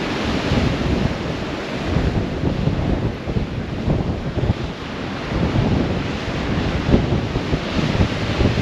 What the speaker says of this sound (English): Wind's getting up now as well, it's really strong.